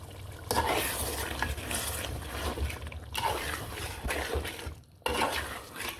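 Desi chicken stir-frying with spices in a pot, a soft scraping, sizzling stir repeating in waves with pauses, a voice talking faintly underneath.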